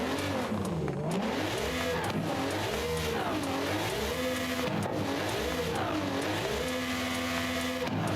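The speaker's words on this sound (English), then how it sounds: "And how does this racing V12 sound?" Racing V12 engine swapped into a car in the Forza Horizon racing game, revving hard through repeated rising and falling sweeps with gear shifts, loud and continuous with occasional tire squeal and no talking.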